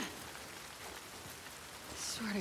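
Steady rain falls in The Last of Us Part 2 survival game, a constant dense hiss of drops on surfaces with faint background tones, and the sound swells a little toward the end.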